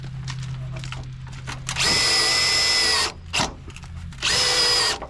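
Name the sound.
power drill driving screws into drain pipe adapter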